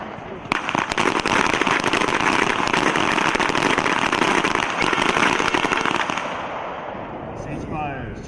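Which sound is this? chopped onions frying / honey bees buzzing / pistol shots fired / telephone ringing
pistol shots fired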